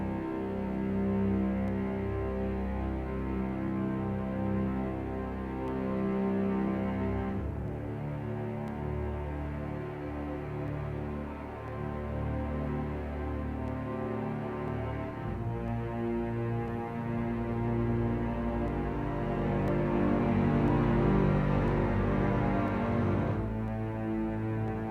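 Orchestral cellos and double basses hold sustained low chords beneath a soft atmospheric pad, shifting to new harmonies every few seconds in a quiet, dark, continuous texture.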